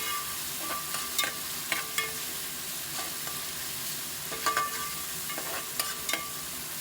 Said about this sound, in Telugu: ఒక నిమిషం పాటు ఫ్రై చేసుకుందాము.